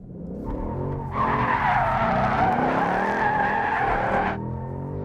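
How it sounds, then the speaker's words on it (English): A 2018 Ford Mustang RTR spins a donut. The engine drones, then the tires break into a loud, sustained squeal for about three seconds before the skid cuts off, heard close with no talking. "gonna do a donut to start it off though"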